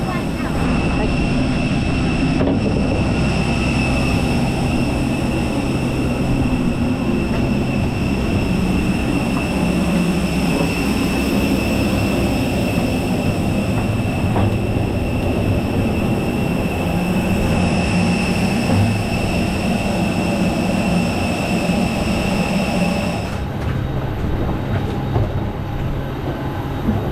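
Steady, loud cabin roar inside an EasyJet Airbus A320neo airliner on a Gibraltar to Manchester flight, a continuous broadband drone with a constant hum that runs unbroken for the whole stretch.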